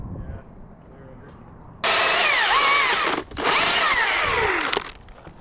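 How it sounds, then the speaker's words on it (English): Battery-powered chainsaw cutting into a tree during tree work, a loud high whining buzz that starts abruptly, runs about a second and a half, dips briefly, then continues for another second and a half before stopping, with faint voices before it. "That's why I chose this saw, because I know it has a really good battery."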